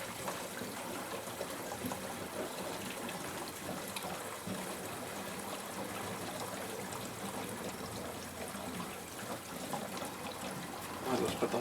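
Fuel from a jug pours into a blower's tank in a steady trickling, gurgling stream, close and continuous for several seconds, with faint background noise.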